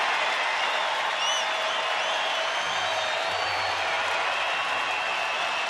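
A baseball stadium crowd at a Rangers home game against the Angels roars in a steady, dense wall of cheering, with faint whistles, and no single voice stands out.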